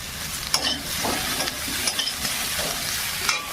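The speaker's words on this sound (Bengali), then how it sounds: "এগুলো একটু ভেজে নেবো, এই আলুর মধ্যে দিয়ে দিলাম," Eggplant pieces frying with potatoes in a pan, an even close sizzle punctuated by a few sharp scrapes and taps of a spatula, without any speech.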